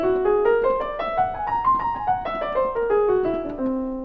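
Piano notes climb a whole tone scale steadily over two octaves and then descend again, each note struck clearly and evenly in a solo passage.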